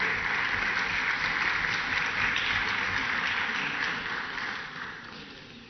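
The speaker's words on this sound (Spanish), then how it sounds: "yo pido aquí un aplauso, no a mí, sino a estas 3 damas." An audience in a legislative session breaks into applause, a thick sustained wash of clapping from many hands that holds steady, then thins and fades toward the end, heard alone without speech over it.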